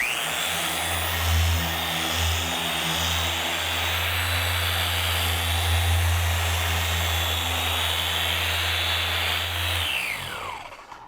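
Rotary car polisher buffing paint, running with a steady loud motor whine and low hum for about ten seconds before spinning down at the end; no talk.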